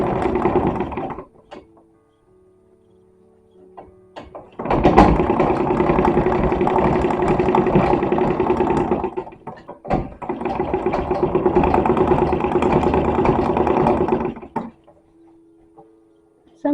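A Wilcox & Gibbs treadle sewing machine stitches a felled seam on an 1860s-style man's shirt, running in two long steady bursts of mechanical whirring with a short pause between them.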